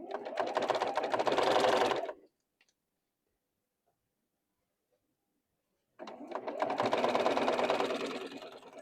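A sewing machine stitching the seams of a quilt block, a fast, steady mechanical chatter in two bursts of about two seconds each with near silence between, heard close and alone.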